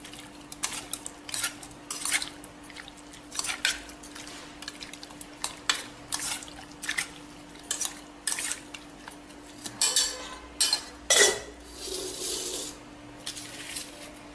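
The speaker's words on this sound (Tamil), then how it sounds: "மஞ்சத்தூளும் கொஞ்சம் உப்பும் போட்டு பெசரிக்குவோம்" Prawns tossed with turmeric powder and salt in a bowl, giving a string of light clinks and scrapes of a spoon or utensil against the dish, close and fairly quiet, with no talking.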